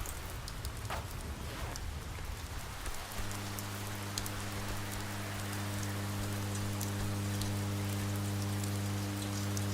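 Steady rainstorm in the video game Oxenfree, a soft even wash of falling rain under a low droning hum that sets in partway through, quiet and without voices.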